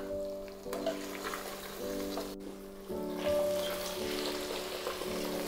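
Mutton kidney and liver frying with golden onions over medium-high flame, a steady soft sizzle with faint stirring, moderately quiet and close, no talking.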